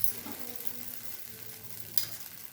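A dosa on a hot griddle, with water splashed on the pan first and then oil, gives a soft, steady sizzle close by with a brief hiss near the end and no talk.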